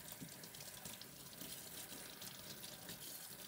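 Leek being rinsed under a running kitchen tap while cooking blanquette de veau, a steady close splash of water into a sink filling the whole stretch without talk.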